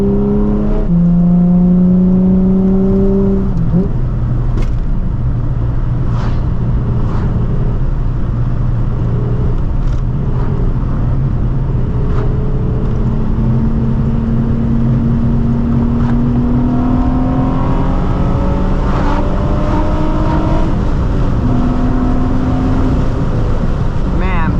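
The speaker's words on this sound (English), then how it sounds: "Accelerating in third like that and then shifting it into fourth" A Nissan 350Z revs up through third gear and shifts into fourth, its engine note rising in long sweeps that drop at each change, heard steadily from inside the car under road and wind noise, with a voice talking over it.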